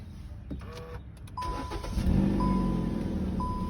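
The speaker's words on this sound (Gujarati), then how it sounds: "ગાડી ચાલુ કરું છું." A 2014 Hyundai i20 Asta 1.2 VTVT is started by push button: a starter crank catches and settles into a steady, fairly loud idle, with faint electronic chimes recurring over the engine hum.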